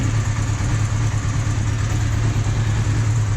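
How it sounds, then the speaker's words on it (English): A 1984 Honda Shadow VT500C motorcycle engine idles steadily, a close, even, low throbbing rumble that stays constant with no voices. "This is my 1984 Honda Shadow 500 VT500C."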